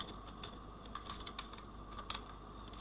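Computer keyboard typing out short paragraph text for an HTML page, a steady run of light, close key clicks with no voices.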